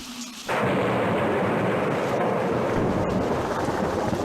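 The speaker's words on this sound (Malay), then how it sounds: "lebat betul hujan hari ni" Heavy downpour with thunder bursts in after a brief quiet moment, becoming a loud, dense, continuous roar of rain and deep rumbling that holds steady to the end.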